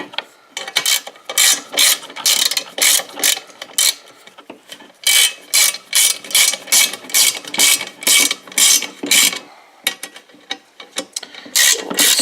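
A ratchet tightens skid plate screws on a Husqvarna FC 250 dirt bike, giving repeated bursts of rapid, close metallic clicking with short pauses between strokes and no talking.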